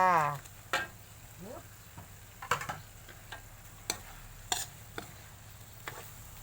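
Minced pork and shrimp stir-fried in curry paste in a Thai kitchen, a quiet low sizzle broken by scattered scraping and tapping strokes of a spatula against the pan.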